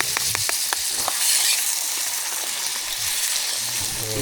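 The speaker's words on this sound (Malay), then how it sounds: "Kita nak menggoreng, menumis ikan ni masuk sotong." Dried fish and squid frying in a pan at a mountain campsite on Gunung Tahan, a continuous loud hiss and sizzle with a few brief clinks of stirring near the start.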